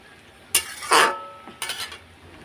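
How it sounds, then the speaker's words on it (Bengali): Paneer being stirred in a cooking pot, a few distinct scraping and clinking strokes of a utensil against the pot, close and isolated over quiet background. "এখন একটু নাড়াচাড়া দিয়ে দিই।"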